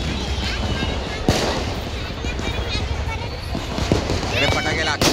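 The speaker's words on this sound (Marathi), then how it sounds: "इकडे फटाके लागतात." Several sharp firecracker bangs at a Diwali festival at Shivaji Park, Dadar, ring out amid steady crowd hubbub, one loud near burst standing out early.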